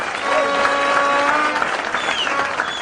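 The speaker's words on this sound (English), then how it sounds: "We need to give you a big, big clap." Sustained applause from delegates at a UDP political party meeting in Kenya, a steady dense clapping that fills the room throughout, with faint voices mixed underneath.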